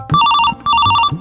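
A telephone rings in two short, loud bursts of bright electronic trilling separated by a brief gap, close and with no talking over it, in a Haryanvi village comedy scene.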